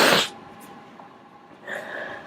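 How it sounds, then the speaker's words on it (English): A single sharp nasal sniff at the start, quick and close, followed by quiet breathing and a faint second exhale. "Sorry if you don't like hearing me sniffle,"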